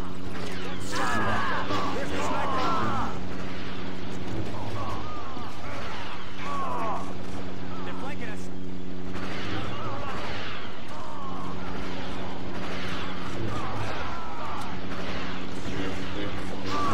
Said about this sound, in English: It's really difficult to see when they continually shoot at the shield.